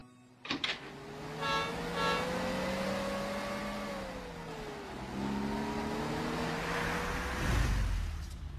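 A car engine revs and hums up close, its pitch rising, dipping, then climbing again as the vehicle pulls in, with a short clunk near the start.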